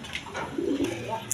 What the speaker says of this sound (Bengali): দর্শকবৃন্দ এখানে আরেক পেয়ার হাই ফ্লাইং গিরিবাস কবুতর আছে